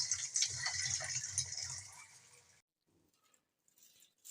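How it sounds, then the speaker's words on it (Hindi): Water draining and dripping off boiled, cooled peas, a splashy trickle for a couple of seconds that fades away to near silence with a faint drip at the end. "ज़रा तमाम पानी इसके साथ झड़ जाए।"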